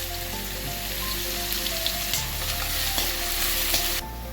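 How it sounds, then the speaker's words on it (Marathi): Onion sautéing in a pan with a pinch of asafoetida, giving a dense, even close sizzle with faint crackles and stirring, steady throughout and slightly quieter at the end. "आता हे कांदा परतायला ठेवलं ना"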